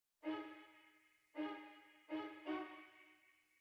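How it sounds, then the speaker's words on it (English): Four sampled orchestral string stabs from an anime vinyl record, chopped and played on an MPC One as part of a beat, each a bright harmonic chord hit that decays, spaced unevenly with the last two close together. "I'm just throwing in these kind of string stabs"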